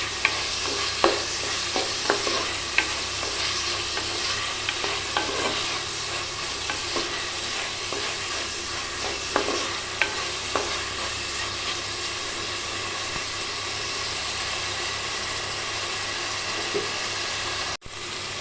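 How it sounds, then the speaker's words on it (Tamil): Tomatoes and shallots being stirred and sautéed in a pan for chicken varuval, with a steady, fairly quiet sizzle and occasional light scraping clicks of the spoon. "இதையும் சேர்த்து நல்லா வதக்கி விட்டுடலாம்"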